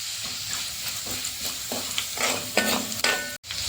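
Bird's eye chillies sizzle loudly in hot oil for a garlic pickle, a constant close crackling fry punctuated by rhythmic stirring scrapes, no talk.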